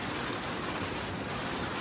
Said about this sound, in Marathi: खूप जोरात पाऊस चालू झाला आहे